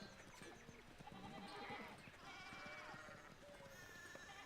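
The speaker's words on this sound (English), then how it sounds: "The sheep block my way so far." Sheep bleating in the medieval adventure video game Pentiment, several overlapping bleats against a busy background of ambient game sounds and music, fairly quiet and continuous.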